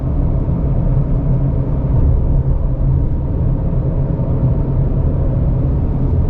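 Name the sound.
2020 Subaru Crosstrek driving fast through turns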